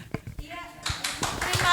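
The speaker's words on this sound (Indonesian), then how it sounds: "Tepuk tangan buat Ibu Arum Kiridani Tias." A small group at a teacher-training session claps for a speaker: a few sharp, scattered claps first, then a denser burst of applause that builds toward the end, with brief talk underneath.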